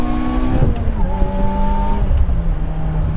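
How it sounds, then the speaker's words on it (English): A Lotus Elise sports car engine revs up loud and close, its tone climbing steadily through the gears with a brief dip at a shift and a rough, buzzy exhaust note. "It's very fast for this little of a car, and it makes such cool noises."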